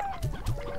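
Rock hen from the Slime Rancher video game giving a couple of soft, low clucks, close and brief, with a faint tonal hum underneath.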